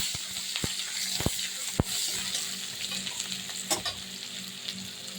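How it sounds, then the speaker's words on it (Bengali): Chopped onion frying in oil with cumin seeds and bay leaf, a steady close sizzle broken by several sharp scraping stirs of a spatula against the pan. "তেলে একটু এগুলো ভেজে নেব, একটু লাল লাল হবে পেঁয়াজটা।"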